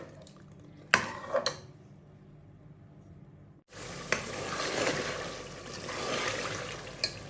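Mutton being stir-fried in oil in a pot, with a few sharp utensil clanks against the metal, a brief pause, then a loud, steady sizzle and scraping as the meat is stirred.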